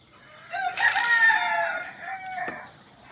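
Desi roosters crow loudly and nearby at a poultry farm, one long cock-a-doodle-doo followed by a shorter call, with hens clucking faintly around them.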